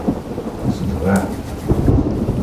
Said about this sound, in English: The worst summer storm since we moved here.